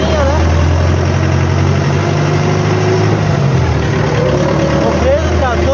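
Cabless farm tractor shifted into second gear on a rainy field, a loud close engine droning steadily with rising and falling pitch changes as it pulls away.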